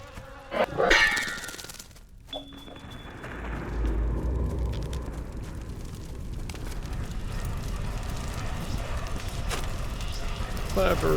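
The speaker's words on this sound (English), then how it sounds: "Clapper for a bell." A bell clapper in the video game Betrayer gives a sharp metallic clang early on, followed by a brief ringing tone, then a long rushing ambient noise of fire and wind.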